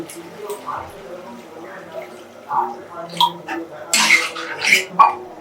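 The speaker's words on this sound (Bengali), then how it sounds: "এবার আমি জল দিচ্ছি" Water is poured into a hot pan of fried mustard seeds for a tangy elephant apple chutney, giving a loud sizzling hiss with clinks of the pan near the end while a voice talks.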